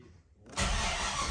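Cold start of a 5-litre V8 in a crash-damaged Holden VT Clubsport: a brief quiet cranking moment, then the engine catches and settles into a loud, close, rumbling roar.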